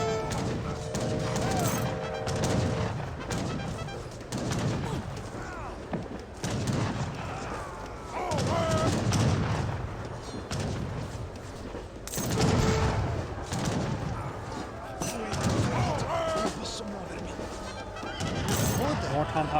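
Cannon fire from field cannons and Papal Bombards in an Age of Empires 3 battle between Italy and Iroquois, a steady barrage of booms and crashes with constant battle noise, heard under a continuous commentary voice.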